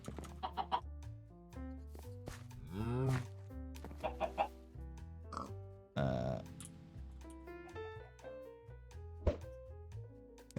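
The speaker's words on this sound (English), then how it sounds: "Baby chicken." Clucking from Minecraft chickens, including a baby chicken, comes in short, repeated, close-up bursts and throaty bawks scattered unevenly across the span, with no talk over them.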